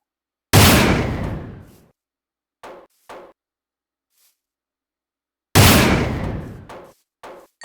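A Gauss rifle fires twice in Minecraft with a Fallout-style power armor mod. Each shot is a loud, sharp blast with a long decaying tail, the two spaced several seconds apart, and faint clicks follow each one.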